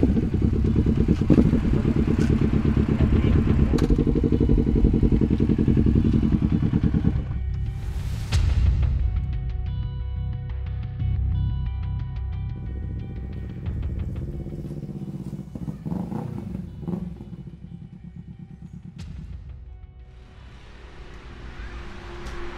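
Motorcycle riding: a loud engine drone with rattling for the first seven seconds, then a quieter idle-like hum with clatter and a brief rev-up near fifteen seconds.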